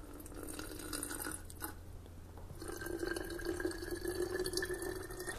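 Food-coloured liquid poured into a bottle for a homemade baking-soda volcano experiment, a steady trickling, dripping pour heard up close with no talk.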